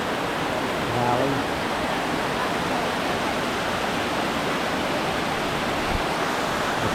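A valley waterfall roars as a dense, steady wash of falling water, loud and continuous throughout, with a brief faint voice near the start.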